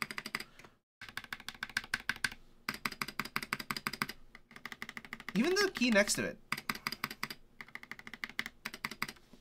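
Rapid typing on a mechanical keyboard fitted with bronze key switches on a hotswap board, crisp, close clacking bursts separated by short pauses, with someone speaking briefly over the keys partway through.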